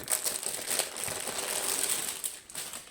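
Plastic packaging of a cross-stitch kit crinkles and crackles as it is opened, a continuous close rustle with a few sharper crumples, no talking.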